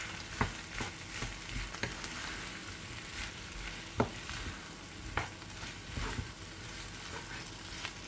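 Crème fraîche being stirred into turkey and bacon in a pan, a spoon scraping in irregular close strokes over a soft background sizzle, with no voices.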